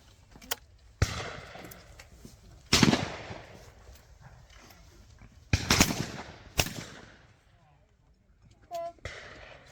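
A shotgun fires at clay targets at Fennes Shooting Ground in January, with several sharp, loud reports scattered across the clip, each followed by a short ringing decay amid quiet outdoor background.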